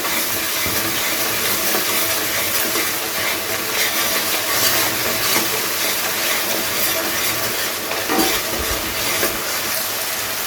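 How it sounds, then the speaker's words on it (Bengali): Spices being sautéed together in a pan for a katla fish curry with tomato and gondhoraj lemon, a dense, even hissing sizzle that holds steady and fairly loud throughout, with no talking. "এবারে সমস্ত মশলাকে একসাথে খুব ভালোভাবে কষিয়ে নিতে হবে।"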